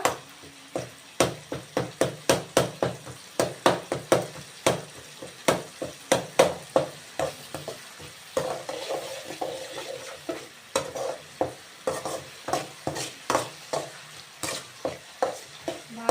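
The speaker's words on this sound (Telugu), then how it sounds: "ఇలాగే వేగుతూ ఉంటాయి టమోటాలు" Tomatoes frying in a pan while a spoon stirs and scrapes steadily, giving quick repeated clatters and knocks over a low sizzle throughout. No one speaks.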